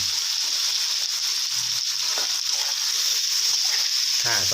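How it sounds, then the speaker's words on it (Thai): Carrots, bean sprouts and tofu stir-fried in a pan, with a loud, continuous hiss of frying and intermittent scrapes of the spatula throughout. "ค่อยๆผัดไปให้แครอทเขามีความนิ่มหน่อยนะครับ"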